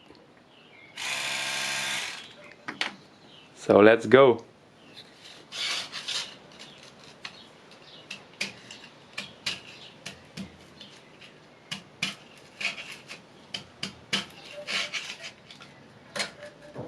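Scrubbing and rasping from a power tool cleaning an old Schaublin 13 milling machine, with a loud buzzing burst early, then many short intermittent scrapes and brushing strokes close by, with brief speech.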